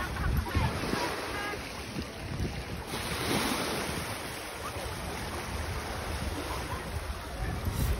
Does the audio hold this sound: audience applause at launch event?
no